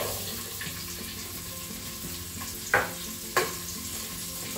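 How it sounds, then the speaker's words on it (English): Onions frying in a pressure cooker pot, a steady sizzle with two sharp utensil scrapes or clanks standing out, close by with no talking. "we want to fry the onions."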